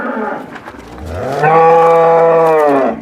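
Pregnant heifers on a farm give a loud, drawn-out moo that swells partway through and holds steady to the end, close by with no talking.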